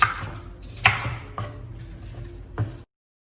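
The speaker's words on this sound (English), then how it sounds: "Next, slice the apple into" A knife cuts an apple into tiny pieces, giving a few sharp, separate chops spaced irregularly, with a low background hum underneath and no voices.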